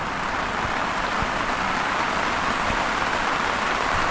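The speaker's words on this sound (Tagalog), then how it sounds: "walang tigil na ulan dito kanina" Heavy, unbroken rain falls in the mountains on the border of Tayabas and Mauban, Quezon, well after midnight. The hiss is steady and even across the whole stretch, with no voices over it.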